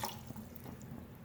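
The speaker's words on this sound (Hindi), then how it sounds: "पानी शामिल करेंगे 3 गिलास भर के।" Water splashes briefly as it is poured into a cooking pot holding a kilogram of boneless beef for karahi, a short close-up trickle with soft dripping.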